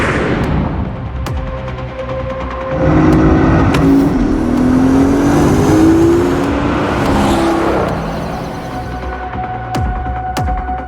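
A one-of-a-kind Porsche built for a Resident Evil collaboration revs its engine, a throaty rising and falling growl that swells loudly in the middle and settles back to a steady hum, with music and effects underneath.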